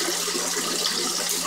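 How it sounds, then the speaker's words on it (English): Water pours into an aquaponics tank at a high flow of about 10,000 litres an hour, a continuous close, rushing splash and hiss. "Water's pouring in."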